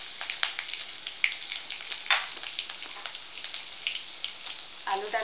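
Cumin seeds, curry leaves and green chillies sizzle in hot oil for sabudana khichdi, a steady crackling fry with occasional sharper pops, close and moderately quiet, with no talking.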